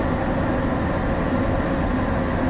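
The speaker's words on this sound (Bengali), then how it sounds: "অবশেষে আমাদের ট্রেনটি প্রায় ঘন্টাখানিকের একটা বিলম্ব করে এরপর যাত্রা শুরু করলো ব্রাহ্মণবাড়িয়া রেলওয়ে স্টেশনের উদ্দেশ্যে" Mohanagar Express train on the Dhaka to Chattogram line pulling away on a rainy night toward Brahmanbaria station, a steady loud low rumble of wheels on rails heard from inside throughout.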